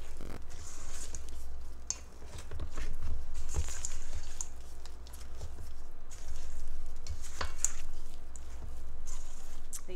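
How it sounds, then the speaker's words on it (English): Chocolate chips and pecans are mixed into homemade cookie dough by hand, giving a continuous scraping and stirring in a bowl with occasional clinks of the utensil against its side. "So we'll just mix these in."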